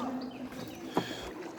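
A short stretch of gentle water lapping around a small rowboat on the Dakatia River, with a single soft splash of a paddle stroke midway.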